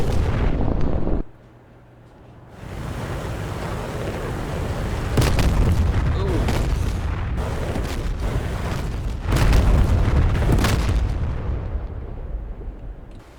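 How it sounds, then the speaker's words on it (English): Loud booming missile impacts on a destroyer in the DCS World flight simulator, with a heavy blast near the start, a brief lull, then repeated rumbling explosions and crashing bursts that swell and fade across the scene. "that destroyer got pretty badly hit right there"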